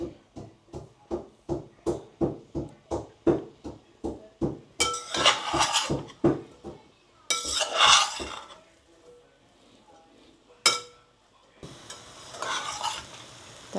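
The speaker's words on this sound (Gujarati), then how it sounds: "ખીચડીને થોડીક મીડિયમ મિક્સ કરી દઈએ" Sabudana khichdi with peanuts is stirred in a pot with a spoon, starting as a steady run of rhythmic scraping strokes and moving into louder sizzling with metal clinks against the pan.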